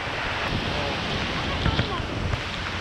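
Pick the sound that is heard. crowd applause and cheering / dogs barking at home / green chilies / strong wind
strong wind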